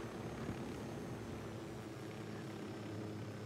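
A helicopter flies in the video game Ghost Recon Wildlands, giving a steady, droning rotor and engine roar that holds constant and close throughout without talk.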